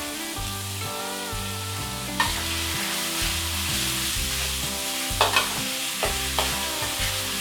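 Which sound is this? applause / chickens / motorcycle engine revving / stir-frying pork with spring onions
stir-frying pork with spring onions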